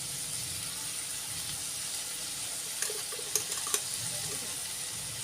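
Turmeric is added to sprouted mung beans sizzling in a pan, giving a continuous gentle frying hiss with a few light spoon taps and no voices.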